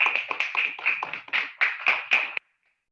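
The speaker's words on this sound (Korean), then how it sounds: "박수로 맞이하겠습니다." An indoor audience at a civic forum gives a short burst of applause to welcome a speaker, with a handful of close, uneven claps that stop abruptly after about two seconds.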